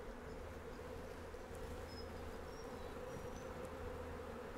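Honey bees buzzing around an open Flow Hive during a brood inspection, a faint, steady, continuous hum with no pauses.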